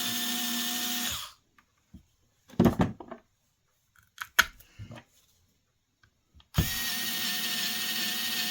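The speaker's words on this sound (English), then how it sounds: "You just tighten that up." A ratchet clicks in several short bursts while parts of an orbital sander are tightened during a bearing repair. A loud, steady motor drone plays before and after the ratcheting.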